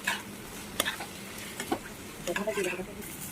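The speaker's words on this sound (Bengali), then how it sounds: "এরপর আমরা দিয়ে দিলাম রেড চিলি ফ্লেক্স আর একটু মিক্স এবং এটা আমরা ভালো করে নাড়িয়ে নেবো।" A utensil stirs chicken chow mein with red chilli flakes in a pan over a faint sizzle, with scattered scraping clinks and soft bumps at moderate, quiet level.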